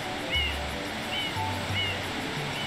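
Waterfall rushing into a polluted cove in Super Mario Sunshine, a steady broadband wash of water with faint game tones on top, no voices.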